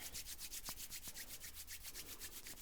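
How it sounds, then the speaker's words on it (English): Two palms rub briskly back and forth in a fast, even rhythm, producing a close, soft, continuous swishing that pulses with each stroke, with no talking. "start to rub your palms together"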